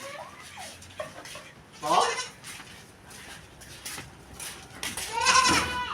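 Goats in a farm pen bleat several times, with sharp, wavering calls standing out near the middle and end, over soft rustling and background activity.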